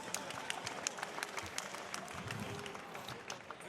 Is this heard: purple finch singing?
no